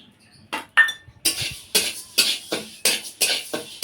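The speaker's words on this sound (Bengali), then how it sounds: "এবার দিয়ে দিচ্ছি মুগ ডাল।" Dry mung dal being stirred in a hot kadai over a stove, with no oil. Crisp rattling scrapes come in rhythmic bursts about every half second, close and fairly loud, and no one speaks.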